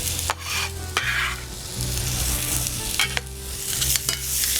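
Raisins and pecans stirred into a sizzling turmeric mixture in a pan, a continuous frying hiss with repeated scraping strokes of the spoon, close and fairly loud, no voices.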